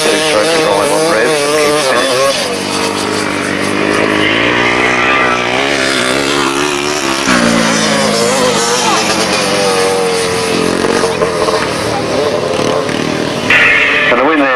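Grasstrack motorcycles, including a four-stroke Honda, race past at a 1990 event with a loud, continuous engine roar that rises and falls as machines rev through the bends, while a commentator talks over it throughout.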